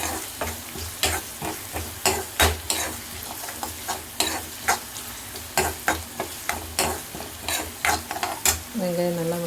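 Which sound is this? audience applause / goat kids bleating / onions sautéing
onions sautéing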